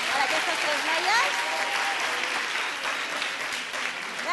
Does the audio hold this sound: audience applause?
yes